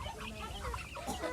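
Mother hens and their many chicks clucking close by in a brief, steady burst of soft farmyard chatter, with no talking.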